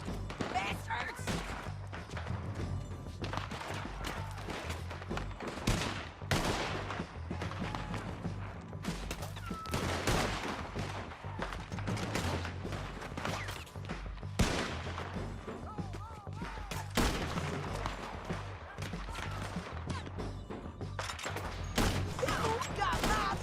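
Red Dead Redemption 2 gunfight, with repeated gunshots and scattered heavy bangs over a busy, noisy background, dense and close throughout, with shouting voices mixed in.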